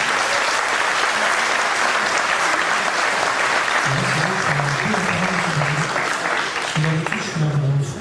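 Audience applause fills a live stage show in a dark venue, steady dense clapping throughout, with some voices calling out in the crowd partway through.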